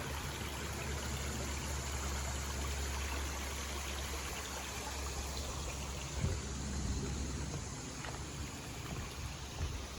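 A creek rushes and trickles beneath a footbridge near a lock on the Susquehanna River, an even, unbroken hiss of flowing water heard alone.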